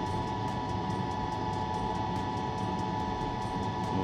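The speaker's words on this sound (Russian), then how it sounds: "Не знаю, сколько лет самолету, но он очень шумный." Inside the cabin of an old, noisy passenger airplane in flight, a constant loud roar and hum fills the space evenly, with no voices.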